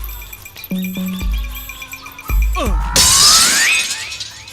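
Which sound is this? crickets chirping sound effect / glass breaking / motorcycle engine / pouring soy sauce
glass breaking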